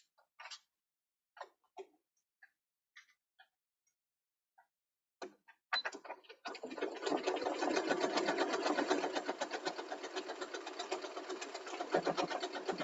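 A sewing machine set to a 2.5 stitch length first gives a few brief clicks and taps, then stitches in a steady rapid whirring run for about seven seconds, close and clear, with no talking.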